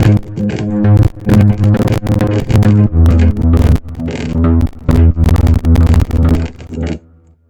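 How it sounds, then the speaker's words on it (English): A sub bass synth layer from an electronic track pumps in loud, rhythmic bursts with deep low-end weight, chopped into repeated sidechained pulses before fading out at the end. "More basses. It sounds like this. It's called sub basses."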